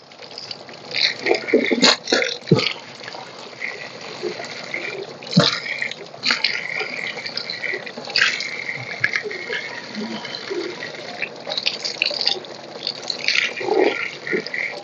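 Rushing, gushing water of a mountain waterfall in Nepal flows continuously nearby, with splashes and uneven surges throughout; no clear talking.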